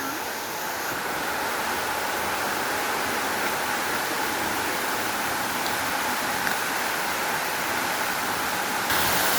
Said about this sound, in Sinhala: මේ ලොකු අඩි 100ක විතර වතුර පාරක් එන්න උඩ ඉඳලා